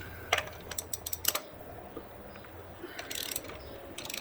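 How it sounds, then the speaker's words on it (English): Car jack raising one side of a 2000-07 Mazda Tribute / Ford Escape during a brake pad change, heard as quick, faint ratcheting clicks in bursts separated by brief pauses. "jack up this side of the vehicle"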